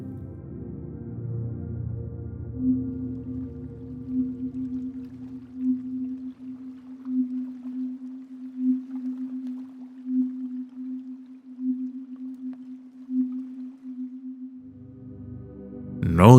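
A 256 Hz healing tone on the note C (Do), a smooth sustained pure pitch that enters after a low murmur and holds steadily for about twelve seconds before stopping abruptly.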